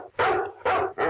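A dog barks at a house in three loud, close bursts, each a short run of sharp barks with brief gaps, no talk over it.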